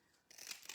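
A single quick, quiet snip of scissors cutting small coal pieces for a giant snowman's face, close to the mic with a short metallic click after it.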